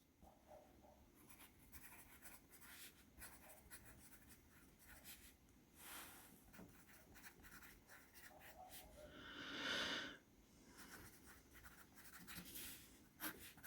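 Graphite lead in a brass bullet pencil scratching across paper, a steady close scribbling rub with a brief louder stroke partway through, no talk.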